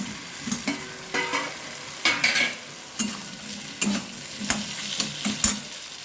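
Fried potatoes tumble into hot spiced masala in a pan while cooking a vegetarian chhana dish, setting off a steady sizzle with repeated scraping stirs and clinks of a spoon against the pan at an irregular rhythm, close and clear.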